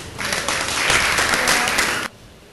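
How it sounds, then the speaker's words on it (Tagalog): A church congregation applauds a singer at a service, steady clapping from a full room for about two seconds before it cuts off abruptly. "Kaya bigyan po natin ng palakpak ang ating kapatid"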